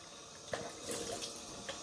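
Hot water runs from a tap into a sink, splashing and trickling softly at close range with a few brief louder spurts.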